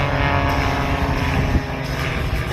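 Propeller-driven warbird aircraft fly past in a formation display at an airshow with engines of up to 400 horsepower, giving a continuous loud droning engine roar with no pauses.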